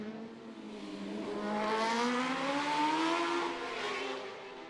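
Davey Todd's superbike, the Burroughs Engineering machine, screams past during Macau Grand Prix practice, its high engine note rising as it approaches, peaking close by, then receding, with no talk over it.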